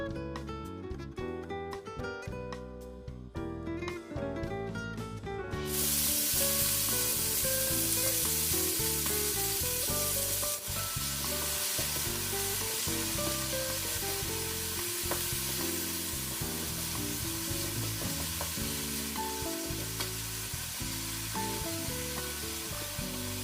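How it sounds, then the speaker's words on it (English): Beef sautéing in oil for a prime rib and mushroom stir fry, giving a loud, continuous sizzle and frying hiss that lasts throughout under music. "In the remaining oil, saute the beef for 6 to 8 minutes"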